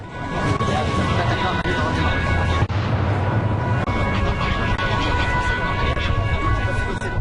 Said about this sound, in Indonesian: Selain ledakan, rangkaian suara tembakan senjata otomatis juga terdengar di sekitar gedung